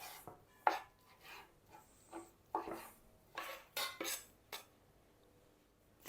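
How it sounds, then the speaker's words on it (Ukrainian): A knife chops pork head fat on a cutting board in irregular quick cuts, faint and close, with no voices. "Сало з голови свинячої я ріжу такими невеликими квадратиками."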